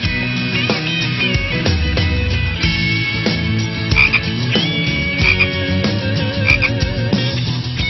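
Many frogs croak loudly and continuously nearby, a dense chorus of overlapping rasping calls with no talking.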